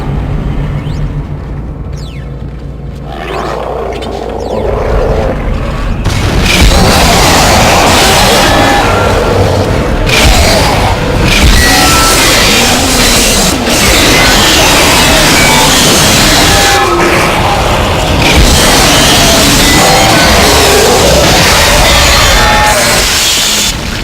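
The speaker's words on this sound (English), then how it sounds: "Generic space sound effects is what it is." Dense, loud sci-fi effects from the game Dead Space: rumbling blasts, whooshes and crashing bursts pile up continuously after a quieter opening, with no one speaking.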